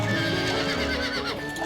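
A horse neighs loudly and close, a long rising-and-falling whinny with faint hoof clatter beneath, and no talk.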